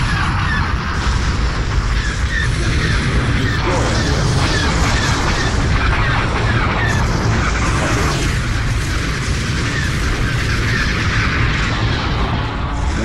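Siege weapons fire in Star Wars Empire at War: a dense, continuous barrage of booms and blasts rumbling loudly without letup, layered with mechanical battle noise.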